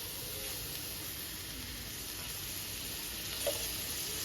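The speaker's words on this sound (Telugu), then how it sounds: "ఇవి కూడా మీడియం ఫ్లేమ్లో పెట్టుకొని బాగా ఫ్రై చేసుకోవాలి." Tomatoes fry in oil over a medium flame for a mango roti pachadi, making a soft, even, continuous sizzle and hiss close by, with a single faint tap near the end and no speech.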